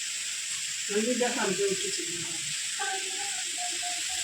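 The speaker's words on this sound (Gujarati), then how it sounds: "ડુંગળી થોડી લાલ થઈ જાય શેકાઈ જાય પછી ટમેટા નાખી દેવાના છે" Onion frying in a pan in a home kitchen, a steady bright sizzle running throughout while someone talks over it.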